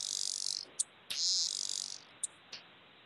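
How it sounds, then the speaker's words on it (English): A periodical cicada, the 13- or 17-year kind, gives high, hissing buzzes broken by short sharp wing clicks, heard close and alone over quiet background. "And the cicada is making a sound something like this."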